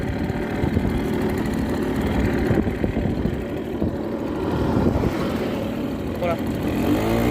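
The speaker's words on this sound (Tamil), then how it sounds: "பைக்கோட சவுண்ட் எப்படி இருக்குன்னு பார்த்துக்கிறேங்க." A motorcycle engine runs steadily with a rough, low rumble throughout, close and fairly loud, without obvious revving.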